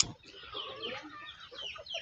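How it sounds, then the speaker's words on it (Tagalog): Chickens clucking in a rural yard, short, fairly quiet, with a few soft calls bunched together. "Mga manok yan."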